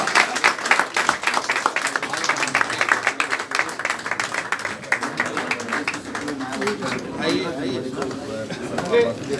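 An audience at a Hindi-speaking birthday celebration claps in dense, uneven bursts, loud and close, fading slightly toward the end, with a voice talking over part of it.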